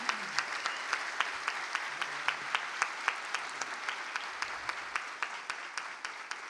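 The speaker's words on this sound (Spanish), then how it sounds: "Denle un fuerte aplauso a nuestro Dios" A church congregation applauds during a worship service, a steady wash of many hands clapping with some louder individual claps cutting through at a fairly regular pulse.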